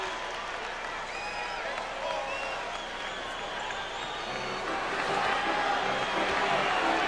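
A basketball arena crowd at a 1998 Bulls vs Pistons game claps and murmurs in a continuous broad wash, swelling louder toward the end, with a commentator's voice faintly under the noise.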